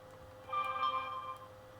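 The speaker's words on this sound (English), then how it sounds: "My sister's phone is going off." A mobile phone gives off a brief, faint text notification chime, a single short tonal alert of about one second over quiet background.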